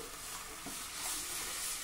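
Hot tempering for kadhi sizzles in a pot as the kadhi mixture is added over curry leaves and the lid goes on, giving a short, steady hissing sizzle with a brief scraping stir and no talking.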